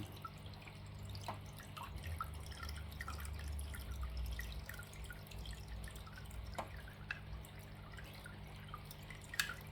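Water trickles and drips steadily from an internal aquarium filter after trimming and cleaning, with soft irregular drops over a low constant hum, close and fairly quiet.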